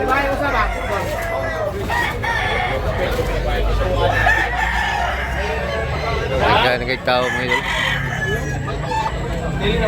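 Roosters crow repeatedly, some close and some farther off, at a crowded Sunday rooster market in Tabunok, Talisay, Cebu, layered over steady crowd babble and someone talking.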